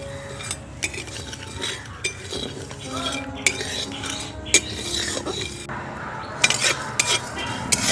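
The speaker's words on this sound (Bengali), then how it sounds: "এবারে এই সবগুলোকে শুকনো কড়াইতে খুব ভালোভাবে ভেজে নেব।" A spatula steadily scrapes and stirs dry spices, including poppy seeds, in a dry metal pan, with light clinks and a faint crackle, close up and continuous.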